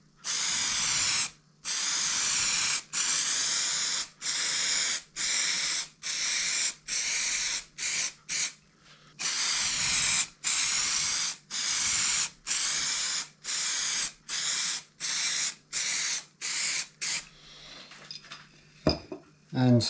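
A spray paint can lays even coats on a guitar headstock in a long series of rhythmic hissing bursts, each a second or so long and separated by short pauses, loud and close.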